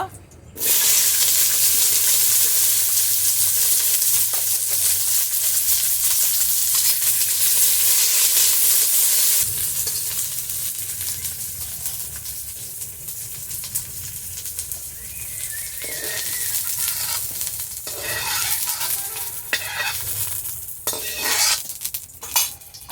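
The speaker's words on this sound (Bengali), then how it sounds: "কুঁদলিটা এবার ভেজে নেব।" Ivy gourd (kundri) frying in oil in a pan, a steady loud sizzle with stirring and utensil scrapes, easing slightly partway through before sharper clinks of a spatula against the pan.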